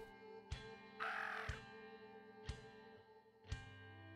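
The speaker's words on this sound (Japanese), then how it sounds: "あ、カラス。" Several loud caws from a crow in the video game Unreal Life, spaced about a second apart with one longer, harsher call among them, over a steady low game music bed.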